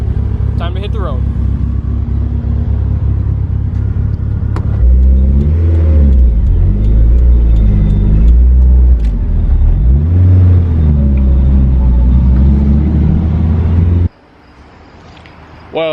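Two car engines idle and warm up, rumbling loudly up close with a few revs, while someone talks over them; the engine noise drops out sharply near the end.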